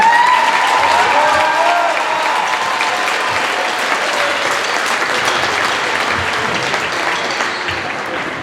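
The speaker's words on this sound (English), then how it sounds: "give them a round of applause here" Audience applause fills a school concert hall for a 6th grade band class at a district concert, a dense, steady wash of clapping that holds loud throughout and fades slightly toward the end.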